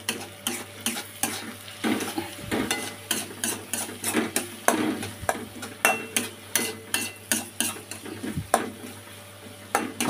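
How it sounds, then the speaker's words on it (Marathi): Egg bhurji is mashed and stirred in a pan. A utensil taps and scrapes against the pan again and again in an uneven rhythm over a soft sizzle and a steady low hum. "तर आपण परत मॅश करायचं चांगलं आता."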